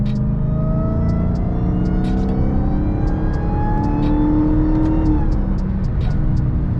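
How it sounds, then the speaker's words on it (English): Dodge Hellcat V8 revving while held in one gear in manual mode, engine pitch climbing steadily for about five seconds and then easing off, loud and close with faint ticking above and no speech. "So y'all see how long that stays in the gear because I got it in manual mode, so it won't shift until I do it myself."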